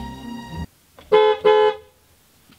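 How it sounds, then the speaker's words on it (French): Car horn sounding from inside a car: two short, loud honks in quick succession after a steady engine-like drone cuts off, with no talk during the honks. "Alors, klaxon."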